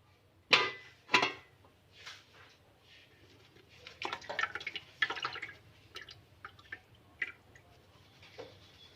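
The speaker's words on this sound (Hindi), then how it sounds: "तो अब मैं टोकरी के अंदर छान लूँगी, पानी निकाल देंगे" Water draining from boiled bhalle lentil dumplings in a basket, with a few sharp drips and splashes, then a patter of smaller trickles and clinks, close and fairly quiet, with no talking.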